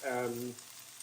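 A fish pan-sears with a soft, brief sizzle that fades within a second, close but faint, with a short voice-like tone at the start.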